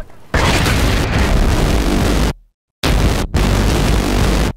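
A tank explodes in Battlefield, heard as loud, sustained roaring blasts broken by a brief silence and then more booming detonations, close and overwhelming.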